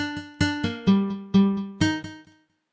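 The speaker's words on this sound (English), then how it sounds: "which is like the sound of a regular acoustic guitar" A software acoustic guitar plugin with a regular acoustic guitar sound plays a short melodic phrase of several plucked notes, bright and close, each ringing briefly before the next.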